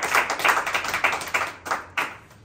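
A church congregation claps hands together during a Holy Trinity Sunday service, a fairly steady run of sharp, close claps with a few stronger accents, heard without any speech over it.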